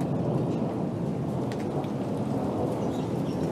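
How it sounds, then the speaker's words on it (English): A thunderstorm with hail pours down in a dense, steady roar of heavy precipitation, with thunder rumbling underneath. "The thunder's not stopping it."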